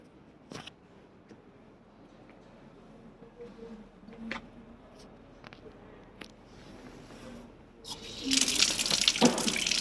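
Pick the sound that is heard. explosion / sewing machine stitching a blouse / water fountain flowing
water fountain flowing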